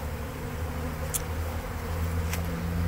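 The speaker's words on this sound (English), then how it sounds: "There's no sign of any pile of bees with a queen or anything like that." Honeybees buzz around a condemned house after removal, a steady close insect hum over a low background drone, with a couple of sharp brief sounds.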